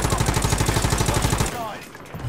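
Rapid automatic gunfire rattles in a steady burst from a video game for about a second and a half, then cuts off, leaving quieter game noise.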